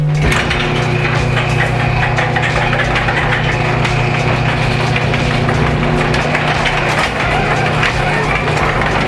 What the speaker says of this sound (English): So I'll start up the engine so you can hear it.